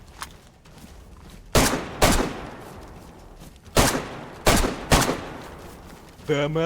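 Several loud, sharp gunshots crack one after another at irregular intervals in the video game DayZ, over a quiet background, with a brief electronic tone at the end.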